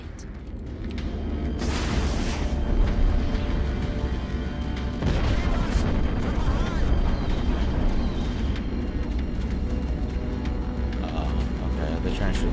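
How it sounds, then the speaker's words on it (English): A chain-reaction explosion destroys a ship pen in the space combat game Strike Suit Zero, heard as heavy rumbling booms and roaring blasts that build and swell over continuous engine and weapon noise, with voices speaking over it. "The resulting explosion should trigger a chain reaction that will destroy the entire pen and the ships within"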